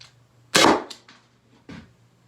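A Byrna launcher powered by a CO2 cartridge fires, giving one sharp, loud pop followed by a fainter click and a second, quieter pop a second later, close by against a quiet background.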